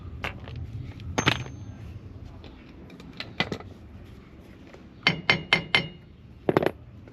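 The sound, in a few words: hammering on a van hub nut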